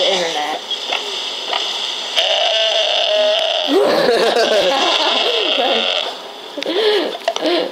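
A goat bleating in the video game Crossy Road: wavering nasal bleats rise over tinny game music and background noise, with people talking and laughing close by.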